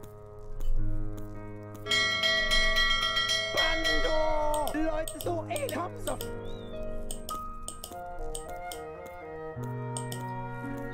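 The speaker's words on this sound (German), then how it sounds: "Soll ich hier mal läuten?" In the adventure game The Whispered World, a bell rings out with bright, sustained metallic tones that layer and decay over several seconds over a background music score, while someone talks in between.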